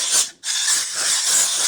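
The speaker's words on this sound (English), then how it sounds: "I'm going to take my blowgun" An air blowgun blasting compressed air over a wheel work area in a shop, a loud, hissing rush of air that cuts out briefly and then resumes steadily.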